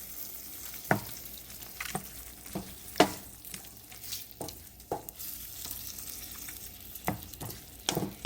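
Tofu tikka masala sauce cooking in a pan, a low steady simmering sizzle broken by scattered clinks and scrapes of stirring at irregular intervals.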